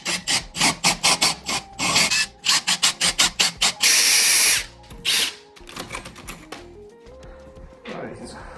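A power drill bores a hole for electrical wiring with a bit marked to 35mm, running in short loud bursts and one longer whine, close by, then trailing into quieter bumps and rattles.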